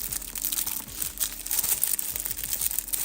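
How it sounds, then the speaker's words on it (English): Close, continuous crinkling of plastic inside a dog toy, crackly rustles like plastic bags rising and falling as it is squeezed, with no voices. "it sounds like plastic bags. it crinkles."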